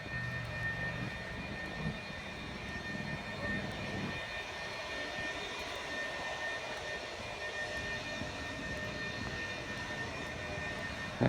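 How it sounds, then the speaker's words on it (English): A leaf blower drones steadily in the distance on a residential hill, a continuous broadband whine and rush that stays even throughout, with no talk over it. "It's one of those blowers."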